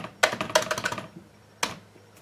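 Quick bursts of computer keyboard typing while formatting a spreadsheet column, a rapid cluster of close keystrokes followed by a pause and one or two final taps.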